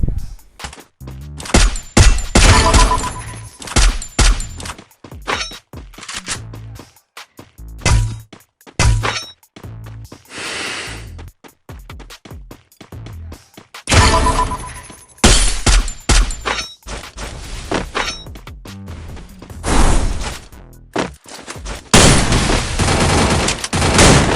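Rapid bursts of gunfire from the video game Free Fire crack in loud clusters, separated by brief gaps, with sustained stretches of heavy shooting and impacts throughout.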